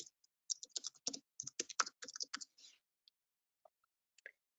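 Quiet typing on a computer keyboard: a quick run of soft key clicks for about two seconds, then a few scattered, isolated taps with silence between them.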